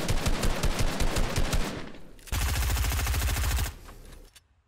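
Rapid automatic gunfire rattles in a first-person shooter video game, one long burst followed by a brief gap and a second dense burst that fades out.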